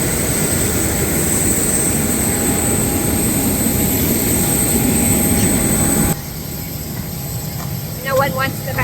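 Steady, loud airliner engine drone on an airport tarmac fills most of the clip, then drops in level near the end, where a few brief bird-like chirps appear.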